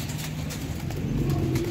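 Rooftop pigeons coo in a low, continuous murmur, close and steady throughout, with no voices.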